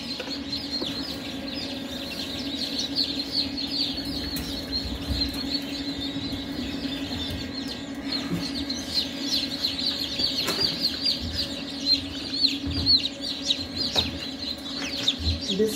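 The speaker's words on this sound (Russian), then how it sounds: "Вот он, вот цыплятки." Newly hatched chicks in an incubator peep in a dense, continuous chorus of high, overlapping chirps, close and steady, with a low constant hum underneath and no talking.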